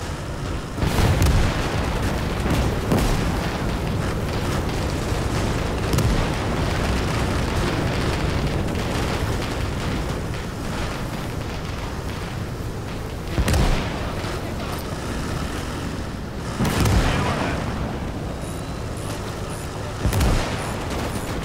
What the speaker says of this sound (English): There's some kind of mortar landing down there too.